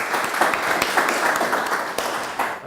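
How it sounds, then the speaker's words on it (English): An audience applauds steadily as a speaker is welcomed to the stage at a startup growth talk, a dense, even wash of many hands clapping throughout with no pause. "So please give a big welcome with a round of applause for Vladimir."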